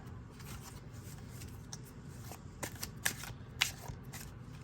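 Oracle cards are shuffled by hand in a steady riffling patter, with a few sharper snaps and slaps of the deck standing out near the end.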